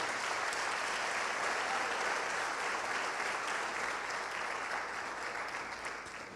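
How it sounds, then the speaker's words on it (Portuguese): A church congregation applauding, a dense continuous wash of clapping that holds steady and fades gently toward the end. "Pode aplaudir ao Senhor."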